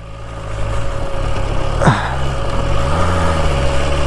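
A car engine labours in second gear on a steep mountain road, running hot. A steady, loud, low drone continues throughout with a faint rise in pitch near the end and no talk.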